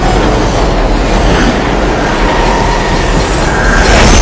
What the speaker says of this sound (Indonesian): Saat kereta tiba